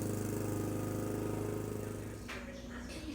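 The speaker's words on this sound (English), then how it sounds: "they don't like the sound of the lawnmower" A lawnmower running nearby, its engine droning steadily and fairly faintly, then easing off slightly toward the end.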